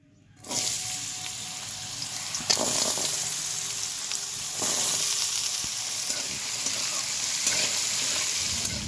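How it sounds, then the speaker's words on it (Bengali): Diced potatoes drop into hot oil already seasoned with whole cumin and bay leaf, bursting into a loud, continuous sizzle that carries on steadily, with a few brief clinks of a spoon in the pan. "এবার আমি ডুমু ডুমু করে কেটে রাখা আলুটা দিয়ে দেবো"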